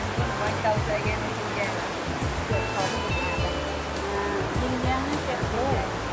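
Stream water pours down steadily in a rainforest, a constant rushing hiss close by, while a person talks over it.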